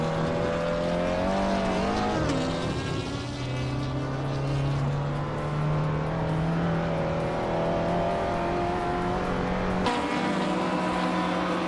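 Several race car engines in a racing video game, one a BMW 320, howl steadily, their pitch sliding up and down through gear changes, with the engines blended together, sustained and loud throughout.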